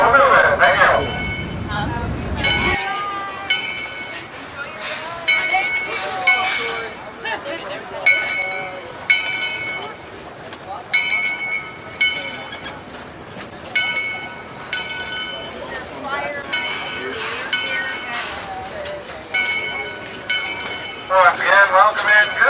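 The Sugar Pine Railroad tourist train rolls along the tracks with steady rumbling, wheel clatter and repeated squeals, heard up close with a voice speaking over it at times.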